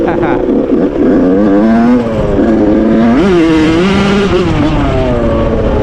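A 2001 Suzuki RM 80 dirt bike fitted with a 2003 RM 85 cylinder being ridden, its two-stroke engine buzzing loud and close, revving up and down through gear changes with a sharp rise partway through.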